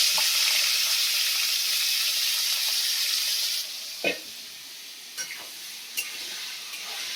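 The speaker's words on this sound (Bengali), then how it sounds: "ইলিশ মাছ ভাজার তেল দিয়ে আমার কি করছি, পাঁচফোড়ন আর কি বলে শুকনো লঙ্কা ভেজে নিলাম, নিয়ে বেগুনগুলো দিয়ে দেবো" Eggplant pieces frying in leftover hilsa fish oil with panch phoron and dried red chillies, a loud steady sizzle that drops off partway through, followed by a few sharp clinks of a spatula against the pan.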